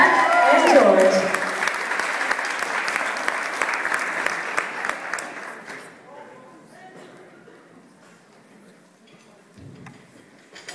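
A live comedy-show audience breaks into loud applause and cheering for two guests, a married couple, which gradually thins out and fades to scattered claps as talk begins beneath it.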